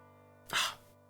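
A single short, sharp sneeze bursts out indoors over a quiet electronic hum, close and fairly loud, lasting under half a second.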